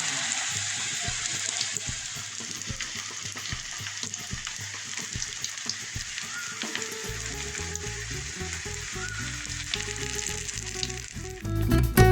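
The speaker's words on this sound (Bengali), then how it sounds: "এবার চারপাশ সুন্দর করে ভেজে নিলে তৈরি হয়ে গেল ব্রেড রোল পাকোড়া" Stuffed bread roll pakoda fries in hot oil with a steady, bright crackling sizzle heard close up, music running beneath, and a louder clatter and rush of sound in the final moment.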